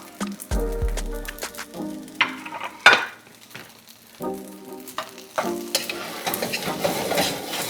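Chunky onions fry for fried rice in a hot pan, giving a close, crackling sizzle broken by repeated scraping and clattering stirs, with no talking.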